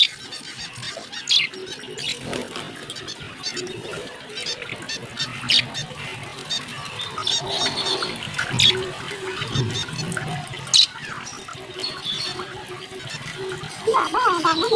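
A pet bird bathes in water with soft, continuous splashing and fluttering close by, broken by brief chirps, while someone speaks over it.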